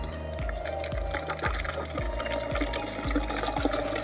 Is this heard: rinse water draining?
yes